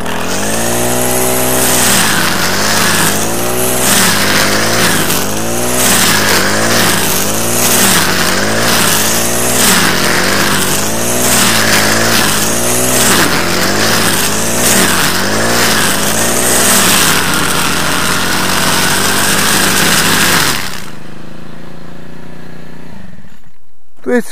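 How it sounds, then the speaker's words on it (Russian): A Champion T334FS four-stroke engine under load is revved repeatedly in rhythmic rising and falling surges, loud and close, before the revs drop away and the engine cuts to near silence. "Набираю обороты и вперед."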